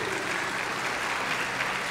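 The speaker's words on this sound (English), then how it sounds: "so that we can recognize them with your applause" Steady applause from a large audience at a college spring commencement ceremony, recognizing standing board members; a continuous, even patter of clapping heard from a moderate distance.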